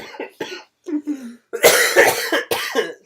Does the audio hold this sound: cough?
yes